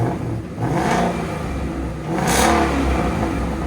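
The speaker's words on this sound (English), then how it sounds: "Go ahead and give it gas." 2016 Ford Mustang GT 5.0L V8 with Flowmaster X-Pipe and X-Force valved exhaust, valves closed, revving in a few rising and falling bursts, a muffled but full engine roar close by with clattering hiss.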